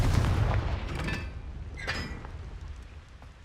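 Spell blasts from the explosive Confringo charm in the video game Hogwarts Legacy, a couple of sharp booming bursts in quick succession followed by a fading crackling tail.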